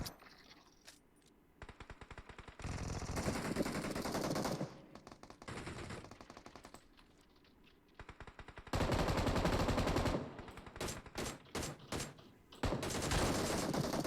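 Automatic gunfire from PUBG Mobile, a battle royale video game, comes in loud repeated bursts and rapid volleys with short quieter gaps between exchanges; no talk is heard.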